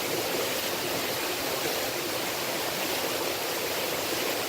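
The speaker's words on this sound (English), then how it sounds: "underground water, straight from the earth." Clean underground water rushing steadily through a river cave, a loud, unbroken broadband roar like a stream or small waterfall filling the space with no other sounds.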